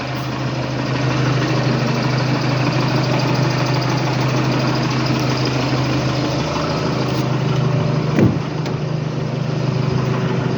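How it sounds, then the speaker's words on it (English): A 2017 Volkswagen Golf GTD with a 2.0 TDI Euro 6 diesel engine and DSG gearbox idles at a steady, close low rumble with a faint mechanical clatter, holding constant for about ten seconds with one brief bump near the end. "you can hear the engine running"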